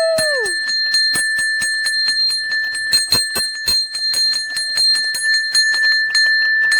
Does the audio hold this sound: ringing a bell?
yes